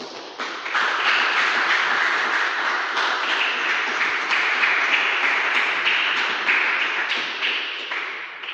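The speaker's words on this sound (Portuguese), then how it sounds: "dê uma salva de palmas a Jesus." A church congregation applauds in a dense, steady wash of clapping that fills the room for over eight seconds, loud and close with no talking over it.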